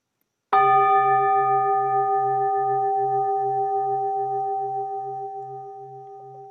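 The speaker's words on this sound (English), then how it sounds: "With the sounding of our morning bell, we welcome you home to this sacred space that we share" A church bell rings once for the morning, a single loud clear strike whose sustained tone hums and slowly fades with a gentle pulsing beat, heard alone.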